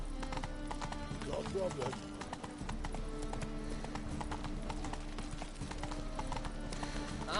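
Roach, Geralt's horse in The Witcher video game, trots with a steady clip-clop of hoofbeats under game music, as a voice speaks briefly over it.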